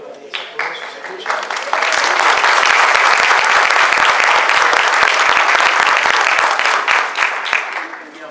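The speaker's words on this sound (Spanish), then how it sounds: "Espero que ese aplauso me despierte un poco." A seminar audience breaks into loud, sustained applause that rises quickly after a few scattered early claps, holds strong for several seconds, then thins into fewer claps at the end.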